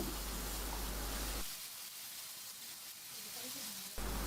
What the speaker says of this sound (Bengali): এরপর নেড়ে ছেড়ে কিছুক্ষণ ভেজে নিচ্ছি আর আমি এখানে সরিষার তেল নিয়েছি